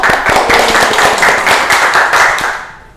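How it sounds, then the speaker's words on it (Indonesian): A classroom of students clapping hands together in unison, a loud, sustained burst of rhythmic claps lasting about two and a half seconds before fading out. "Tepuk tangan, tepuk tangan."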